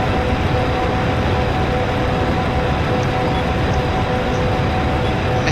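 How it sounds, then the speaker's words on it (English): Steady broadband rumble of a moving train in the video game Skies of Arcadia, a continuous loud roll with faint tonal hum, no talking. "just jump on a moving train."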